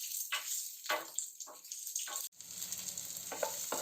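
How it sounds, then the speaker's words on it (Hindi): Chopped onion lightly frying for momo chutney, a steady close sizzle with soft stirring scrapes throughout and a brief drop near the middle. "हल्का सा भून लेंगे इसके प्याज को"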